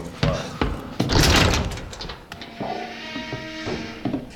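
An old door creaks open inside the Resident Evil 7 horror game, a drawn-out, groaning tone of moderate loudness under a noisy mix of game sounds and a few thumps.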